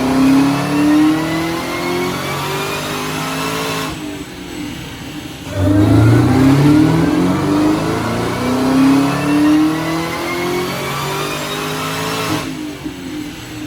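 A car engine strains at wide-open throttle on a dynamometer during testing of a Soler Performance ported throttle body. It is loud and close, with two long rising pulls, the pitch climbing steadily before each cuts off.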